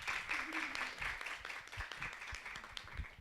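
An audience applauds exchange students at an evening student gathering, a soft, scattered patter of hand claps heard at a distance, with faint voices underneath.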